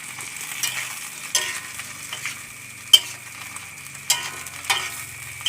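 Gareng pung cicadas frying in a pan, a steady close sizzle with stirring scrapes and occasional sharp clicks and taps at irregular intervals, with no voices.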